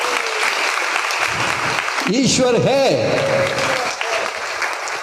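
A church congregation claps steadily at a worship meeting while someone speaks over it with a rising, sung-like voice in the middle.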